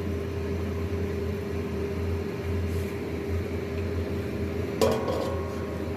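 A lid set down on a cooking pot of fish curry made with potato, eggplant and bhetki fish gives one brief metallic clink over a steady low kitchen hum, with no talking.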